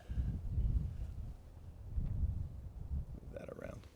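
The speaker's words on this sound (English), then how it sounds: "A little gust of wind." Outdoors, a gust of wind buffets the microphone with low rumbling swells that rise and fall across a few seconds, loud and close, with faint voices near the end.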